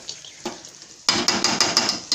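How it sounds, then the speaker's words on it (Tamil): Chicken is stirred with masala in a pan for a South Indian gravy, a quiet start giving way to loud rapid scraping and clacking of a spoon against metal over a sizzling bed. "போட்ட பிறகு நல்லா கிண்டி விட்டுட்டு நல்லா எல்லா மசாலா ஏறுற மாதிரி நல்லா கிண்டி விட்டுருங்க"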